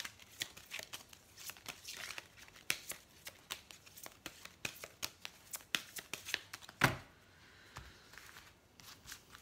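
Oracle cards shuffled by hand for an astrology reading, a quick run of crisp riffling flicks and slaps at close range, with one sharper snap near the end before things quiet down.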